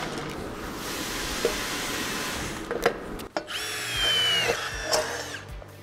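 A Milwaukee electric ratchet wrench at a tool launch event. A broadband mechanical rush runs for a few seconds, then gives way to a higher whirring whine with short sharp bursts, close and fairly loud.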